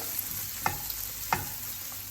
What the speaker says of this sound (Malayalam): ഇതിലോട്ട് നമുക്ക് അരിഞ്ഞു വെച്ച ഒരു ചെറിയ തക്കാളി ഇടാം. എന്നിട്ട് നന്നായി ഒന്ന് വഴറ്റുക.